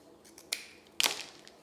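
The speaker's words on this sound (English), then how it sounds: "I'm just going to cut across that folded edge away from me" Scissors snip across the folded edge of a ribbon to cut chevron tails for a gingerbread boy wreath, two quick crisp cuts close by, the second sharper and louder, in a quiet room.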